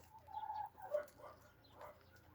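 Laying hens cluck softly in short bursts, quiet and somewhat distant over a low background hum.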